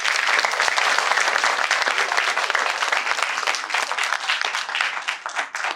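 Sustained applause from an audience gathered at night at Pragya Buddha Vihar in Dongargarh, Chhattisgarh, dense steady clapping filling the whole stretch and thinning slightly toward the end.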